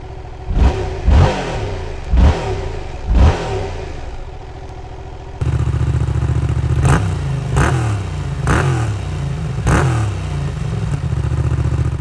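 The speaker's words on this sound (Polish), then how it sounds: "Dwucylindrowy silnik zaprojektowany w technologii crossplane zapewnia liniowe oddawanie mocy" A Yamaha MT-07 crossplane two-cylinder motorcycle engine revs repeatedly in short bursts, roaring up and dropping back between blips, loud and close, then idles with more throttle blips.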